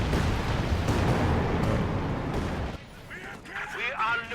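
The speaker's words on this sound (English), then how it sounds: "They get this machine gun though." Rattling machine gun fire and battle explosions in the strategy video game Company of Heroes 2, a dense continuous barrage that thins out, with a voice talking over the din.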